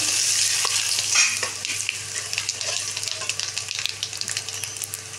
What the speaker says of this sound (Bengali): দেখো এই জিরে ফোড়ন দিলাম, শুকনো লঙ্কা দিলাম, তেজপাতা দিলাম